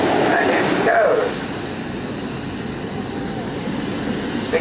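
A four-engine radio-controlled model aircraft takes off at an outdoor RC airshow, giving a steady, moderately loud engine whine and rushing drone that holds throughout, with a faint rising tone high up and a louder burst near the start.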